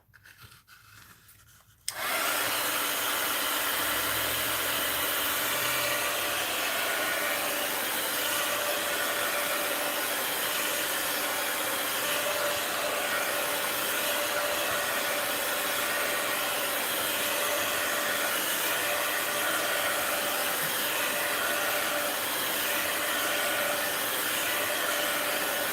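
A heat tool or hair dryer blows steadily to dry wet paint on a mixed-media art journal page, a loud continuous airy whoosh that starts abruptly after a brief quiet moment and runs unbroken to the end.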